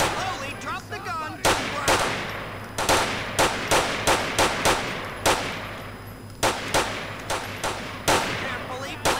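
Gunfire rings out in GTA IV during a police highway patrol mission, with loud, repeated sharp shots in irregular bursts and a faint voice heard early on.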